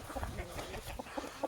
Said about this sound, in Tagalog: Nandito na yung mga manok.